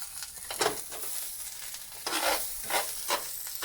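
Onions fry in a pan with a steady soft sizzle, broken by a few louder bursts of scraping as they are stirred, close and alone.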